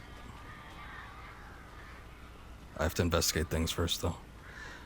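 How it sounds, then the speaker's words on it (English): A cluster of crows caws loudly in quick succession in the Alan Wake video game, harsh repeated calls over a low ambient hum, with someone speaking just beforehand. "Yeah, that's a lot of birds, alright."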